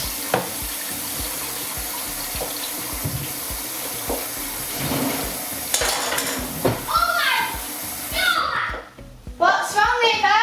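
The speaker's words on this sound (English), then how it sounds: "I'm going to be washing the dishes." Dishes washed by hand in a kitchen sink, with running water, clinking and scraping of crockery under steady background music, and a voice joining near the end.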